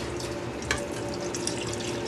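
Melted organic beeswax flowing from a vat when a lever is pressed, a steady liquid pouring and splashing rush with a couple of faint drips, continuous and close.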